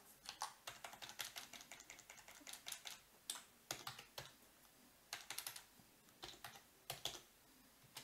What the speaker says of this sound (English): I will simply write Carl Carlson